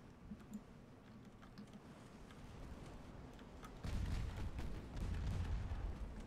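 Naval guns firing in the Ultimate Admiral: Dreadnoughts game with a Russian 1890 fleet, faint distant thuds early, then heavier rumbling salvos stepping up in loudness midway through.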